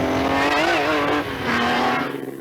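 An ERA racing car's engine revs hard and close, a steady high-pitched drone rising and falling slightly over a couple of seconds, loud and alone with no voices.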